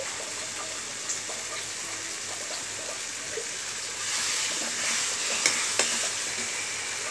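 Butter and masala sizzle in a pan for pav bhaji, a constant bright hiss that swells louder midway, with a couple of sharp clinks near the end.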